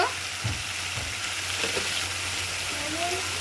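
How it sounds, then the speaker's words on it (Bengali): Spice paste hits reddish fried onions in a pan for a curd-style fish curry, sizzling steadily up close with a few stirring sounds. "পেঁয়াজগুলো আমার কিন্তু লাল লাল করে ভেজে নিয়েছি এবার আমি সেই পেস্ট করা মশলাগুলো দিয়ে দিচ্ছি"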